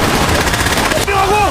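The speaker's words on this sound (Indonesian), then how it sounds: "granat dan tembakan ada di mana-mana" War-film battle scene from Tae Guk Gi with dense, loud gunfire and explosions crackling continuously, then a sudden shift where a voice cuts in over the din.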